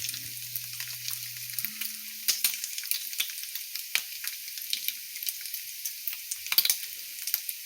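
Bacon strips frying in a hot pan give off a steady, close crackling sizzle with scattered sharp pops throughout, over a faint low hum at the start.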